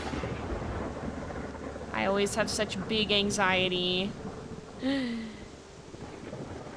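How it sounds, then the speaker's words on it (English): Rain falls steadily with rumbling thunder in the WolfQuest video game, a constant wash beneath a person talking anxiously in the middle of the clip. "And it's still raining."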